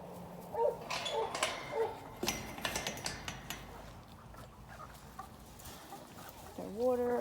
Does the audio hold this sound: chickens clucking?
yes